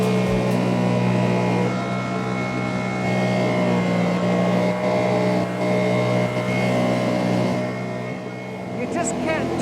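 A steady, loud Rotax engine drone from a Highfield Velox 420 jet boat, with a slight rise and fall in pitch as it swings around on a quick turn, water rushing beneath.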